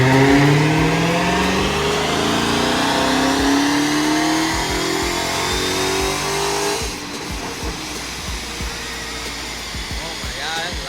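A 2020 Dodge Charger Hellcat Widebody engine revs loudly up to a high whine, then drops off to a rougher, lower rumble. It sounds close, with no speech over it.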